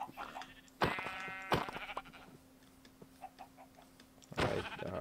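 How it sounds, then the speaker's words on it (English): Sheep bleating in Minecraft: two clear, wavering bleats in quick succession, then a third after a pause, over a low, steady game background. "I think I'm going to kill the sheep for their wool."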